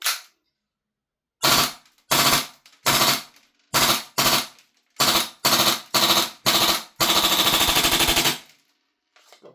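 Krytac Maxim 9 gas blowback airsoft pistol firing in short bursts, each a sharp cluster of rapid cracks separated by brief pauses and ending with one longer sustained burst, loud and close with no speech.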